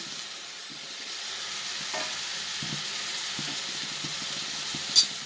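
Mint and coriander sauté in hot oil for cumin samba mutton biryani, a steady, close sizzle with soft stirring scrapes underneath and a single small clink near the end.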